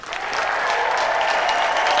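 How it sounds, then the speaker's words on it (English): Steady, dense applause from a crowd, continuous and fairly loud throughout. "Round of applause for Angela."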